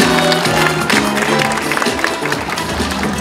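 An audience at a Mapo-gu community culture festival applauds the district mayor, a dense continuous wash of clapping with crowd noise and some voices mixed in.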